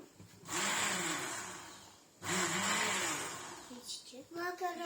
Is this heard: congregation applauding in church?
no